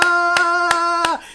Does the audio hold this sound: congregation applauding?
yes